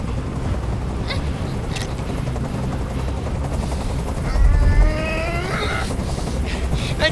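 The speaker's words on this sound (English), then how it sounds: "I can't stand that noise anymore. Tell that helicopter to get out of here." A helicopter hovers in the Detroit: Become Human video game, its continuous rotor drone thrumming underneath while a wavering whine rises and bends over the top, steady and fairly loud.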